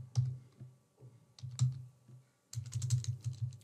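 Typing on a computer keyboard: close, crisp key clicks in short bursts with brief pauses, ending in a quicker run of keystrokes, with no talk.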